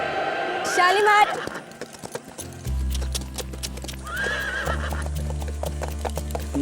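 A horse in a stable whinnies twice, loud and near, while hoofbeats clop steadily underneath and a low hum rises partway through.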